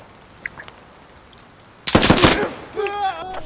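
A sudden loud burst of rapid gunfire in the video game Squad after near quiet, followed by a short high ringing tone.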